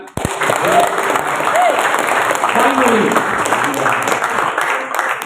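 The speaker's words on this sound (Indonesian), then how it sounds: "Boleh kita tepuk tangan?" A church congregation at an Ascension Day service applauds steadily and fairly loudly for several seconds, a dense wash of clapping with a few faint voices mixed in.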